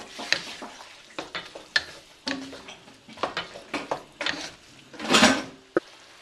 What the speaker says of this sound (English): now that we're coming back to a boil, I feel the cornstarch starting to thicken up here